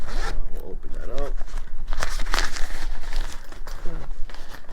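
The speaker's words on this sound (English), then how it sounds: "They have a nice zipper there. We'll open that up." A zipper on a soft lower fairing bag for a Harley-Davidson Road Glide Special is drawn open in several quick raspy pulls close by, with a voice talking over it.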